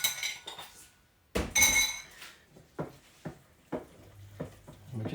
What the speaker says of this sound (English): give that a good old mix together